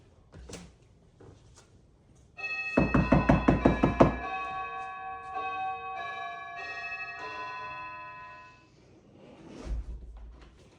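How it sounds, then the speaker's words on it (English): A doorbell chime followed by a quick series of loud knocks on a door during a training session with a seven-month-old pit bull, the bell's tones ringing out and fading over several seconds, with faint talk around it. "Give a ring and a knock."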